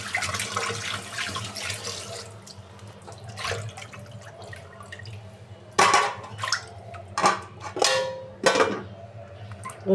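Water runs from a kitchen tap as a pan (kadai) is rinsed clean at the sink, a steady low splash with sharper clatters and scrubbing bursts toward the end, close by and without talk.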